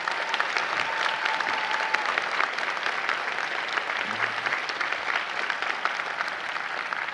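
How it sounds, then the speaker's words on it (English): University commencement audience breaks into loud, steady applause, a thick continuous wash of clapping from a large crowd with crisp claps throughout and a faint voice briefly under it. "Give them applause for what they've done."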